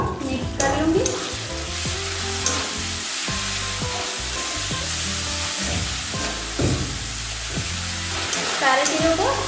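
Jackfruit curry frying with coriander powder, salt and spices in a pan, stirred with a ladle: loud, steady sizzling and scraping strokes close up, without any talking.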